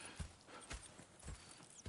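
Horse hooves clip-clop in Red Dead Redemption 2 as a few soft, spaced hoof falls, faint and close, over quiet game ambience with no talking.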